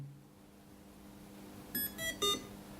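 A Feiyutech gimbal, a1000 or A2000 model, gives a quick run of three or four electronic beeps while its button is held down, fairly faint against a low background hum.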